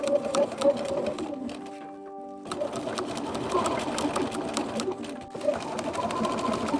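A sewing machine tacks together the layers of a ruffled jester-style cloak, its rapid needle clatter running in close, busy bursts with a brief pause midway before stitching resumes.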